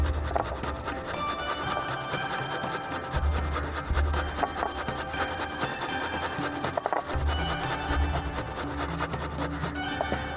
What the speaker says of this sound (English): You need some haldi powder, and then you'll take some ginger garlic and grate it. Okay, so I shall grate it directly into this.